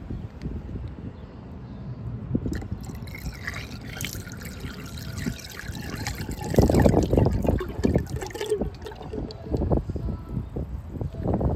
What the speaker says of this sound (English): we'll pour the rest of our gallon down the clean out here to make sure all that's good